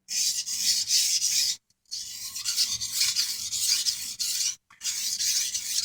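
A knife blade is drawn across a sharpening stone with finger pressure along the edge, giving close, steady rasping strokes in long runs broken by two brief pauses, with no voices.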